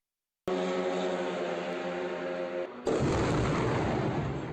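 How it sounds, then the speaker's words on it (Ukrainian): A Russian Shahed attack drone explodes on impact at night in a residential neighbourhood of Sumy, a sudden loud, close blast that follows a steady droning roar and leaves a long, rumbling wash of noise. "Це момент влучання російського шахеду в ніч на 30 січня у спальному мікрорайоні Сум."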